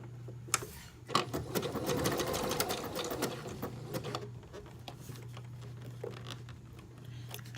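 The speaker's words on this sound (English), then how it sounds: "So I'm just going to sew right here in between this fold line and the edge." A sewing machine stitches knit binding onto fabric with a soft, steady whir that runs through the whole stretch, punctuated by light clicks and fabric handling, fairly quiet and close.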